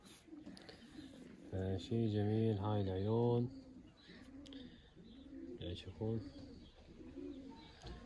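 Belgian and Dutch racing pigeons coo in a loft, a deep warbling burst that swells loudly for a couple of seconds, then softer coos and chirps continue under someone talking nearby.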